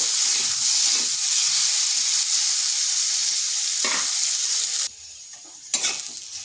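Potatoes with turmeric and salt fry lightly in a pan with a constant crackling sizzle, broken near the end by a brief quieter gap and a stirring clatter before the sizzle resumes.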